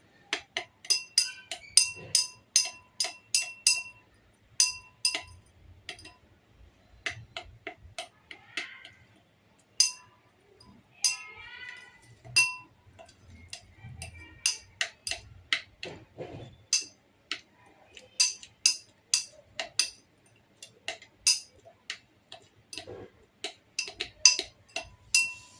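A shampoo base mixture with glycerin stirred in a glass container: rapid, bright clinking of a utensil against glass in quick rhythmic bursts with short pauses, close and fairly quiet.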